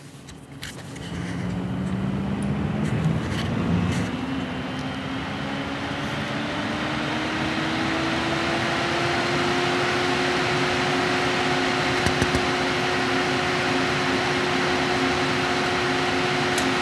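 A Gamdias Boreas P1-720 CPU cooler fan spins up to full 100% speed, its whine rising in pitch over the first seconds and then holding as a loud, steady whoosh of rushing air with a constant tonal hum.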